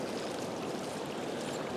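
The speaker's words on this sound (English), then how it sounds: "getting water pouring into your Nalgene, so you have drinkable water" Steady rushing pour of filtered water from a hand-pumped outdoor filter streaming into a Nalgene bottle, close and continuous with broadband hiss, no voices.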